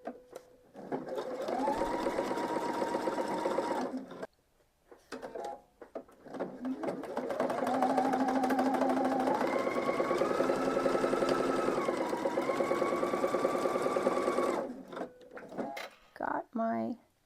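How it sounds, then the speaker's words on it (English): Sewing machine stitching fabric down to a corner on a quilting project, with two sustained runs of close, rapid mechanical whirring split by a brief pause, the second longer with shifting speed. "So I'm going to stitch from the red mark down to the corner."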